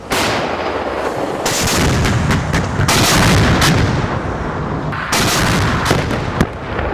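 K9 Vajra self-propelled howitzers fire at a field firing range, with several loud, close booming blasts in quick succession, each trailing into a rumbling roar and echo, and no talk.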